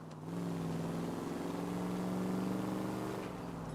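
A car drives in the video game L.A. Noire, its engine giving a steady, fairly quiet hum with a faint rising tone, heard alone without talk.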